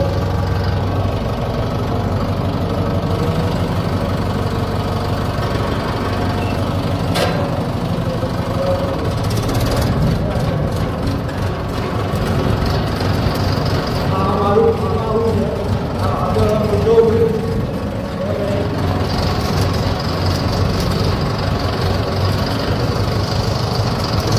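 A tractor motor runs steadily, a continuous mid-pitched engine drone with knocking and vibration lasting throughout, fairly loud and close.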